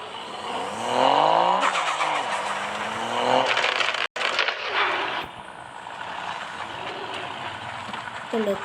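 A car parking video game plays a revving engine with rising and falling pitch sweeps, loud and close, followed by a sharp break and then a quieter steady engine hum with game sound effects.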